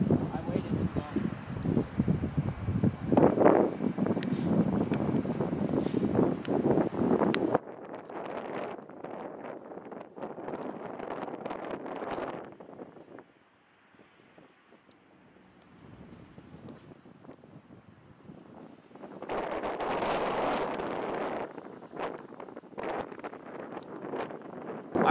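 Wind gusts across a Florida pond during bass fishing, a broad rushing noise that is loud at the start, drops to a near-quiet lull mid-way, then swells again, with people talking over it.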